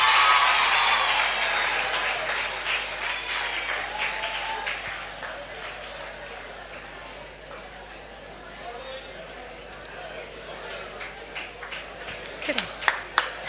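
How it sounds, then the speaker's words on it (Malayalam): A crowd applauds at a state World AIDS Day award ceremony as a district panchayat team is called forward. The clapping is dense at first, fades gradually to scattered claps, and a few sharp, closer claps sound near the end. "നിറഞ്ഞ കയ്യടി വീണ്ടും പ്രതീക്ഷിക്കുന്നു."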